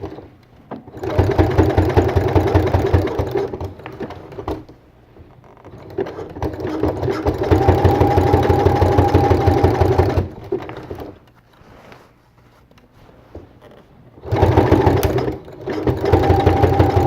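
A sewing machine hemming a t-shirt runs in three loud, close bursts of rapid stitching separated by quiet pauses, with no one talking.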